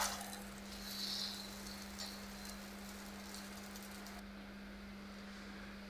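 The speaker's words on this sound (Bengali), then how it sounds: "ডিম ভেজে নিচ্ছি পেঁয়াজ কাঁচামরিচ দিয়ে" Eggs fry with onion and green chilli, giving a soft, steady sizzle and crackle that runs the whole time at low level, with a constant low electrical hum beneath.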